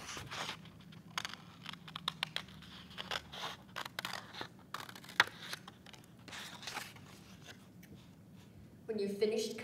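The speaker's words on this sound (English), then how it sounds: "You want to cut your parts out very carefully with scissors." Scissors snip carefully through paper to cut out fish-shaped craft parts, giving a series of small, crisp cutting clicks at an uneven pace beneath a person talking.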